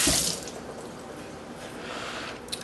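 Food being rinsed under a running kitchen tap while making imitation crab salad: a steady hiss of flowing water with a splashy burst at the start, continuous and close, with no voices.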